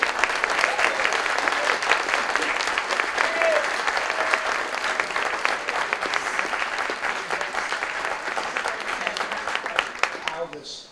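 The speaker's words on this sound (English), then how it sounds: "Let's give him one more round of applause." An audience applauds a poet laureate at a St. Louis event, a dense and sustained round of clapping that fills most of the clip before tapering off at the end.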